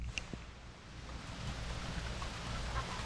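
Rain falling outdoors after a sudden change from hot, sunny weather, a steady close hiss of drops with no voices.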